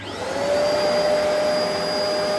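A Bissell vacuum cleaner switches on and spins up within half a second into a steady, loud whine with a constant high tone, running alone without talk.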